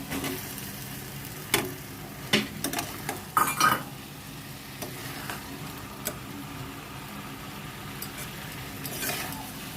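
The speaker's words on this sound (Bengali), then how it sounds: "ধুয়ে রাখা মাংসটা এবার আমি দিয়ে দিলাম।" Washed meat goes into a hot pan and gets stirred, with clustered metal clanks of a spoon against the pot over a soft, steady sizzle, close by and otherwise quiet.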